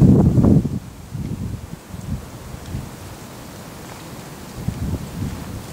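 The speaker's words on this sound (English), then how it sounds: "That wind is going ape shit." Strong wind gusting at a shooting range, loud buffeting rumble at the start, then lower rustling gusts that rise and fall.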